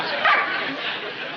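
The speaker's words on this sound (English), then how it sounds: "What's the matter with this goddamn dog?" A dog yips and barks in short bursts close by, mixed with speech from people in an indoor room.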